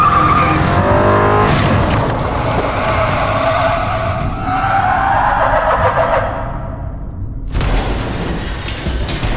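A car brakes hard in a dramatic audio drama scene, tires screeching and skidding loudly for several seconds under engine roar, ending in an abrupt cutoff followed by a crash-like burst.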